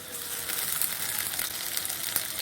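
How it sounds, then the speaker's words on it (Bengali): Ginger paste sizzles and crackles in hot oil in a pan, a steady close-up frying hiss that holds continuously without any voices. "রসুন বাটা এই দুটো তেলের সঙ্গে ভালো করে মিশিয়ে নেবো"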